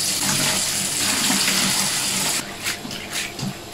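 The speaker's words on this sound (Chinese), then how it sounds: "还是加一点热水洗吧。" Hot tap water runs steadily into a sink while coriander and scallions are washed, a loud continuous gush that breaks into uneven splashing near the end.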